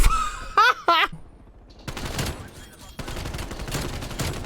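AK74u gunfire in the video game Call of Duty Cold War comes in dense rapid bursts of automatic shots after a brief stretch of squeaky game sounds, loud and close, with a player talking.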